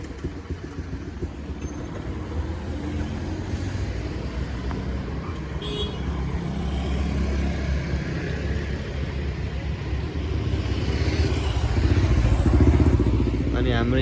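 A repaired scooter engine runs after a major fault was fixed, a close, steady motor drone that grows gradually louder toward the end, with faint rattling.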